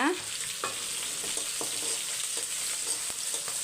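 Garlic cloves tossed into pumpkin already frying in a pan, a steady close sizzle with scattered scrapes and taps of the spoon stirring through it, no voices.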